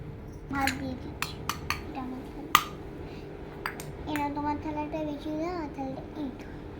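Dishes and cutlery clink sharply a few times as rice is served for a home meal of shapla and pumpkin curry, with a child and an adult talking softly throughout.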